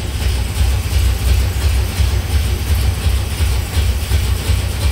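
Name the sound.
1964 Dodge 440 engine idling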